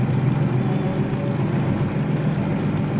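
A steady, low diesel locomotive engine drone in the Derail Valley simulator game rumbles continuously without letup, with no voices over it.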